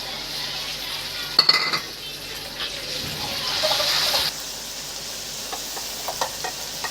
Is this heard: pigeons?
no